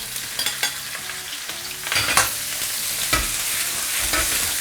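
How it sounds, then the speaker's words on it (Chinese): Mushrooms and green, red and sweet peppers stir-fried in hot oil over maximum heat, with steady loud sizzling and repeated scraping stir strokes throughout. "这时候开最大的火，下入口蘑"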